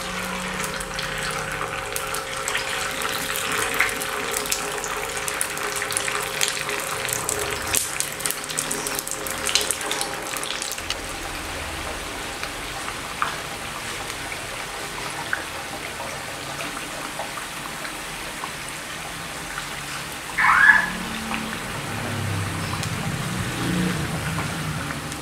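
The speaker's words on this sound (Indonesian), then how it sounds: "Lalu kita goreng cipuknya" Cireng kerupuk crackers fry in a generous amount of hot oil, giving a steady, close sizzle that runs the whole time, with one short louder burst near the end.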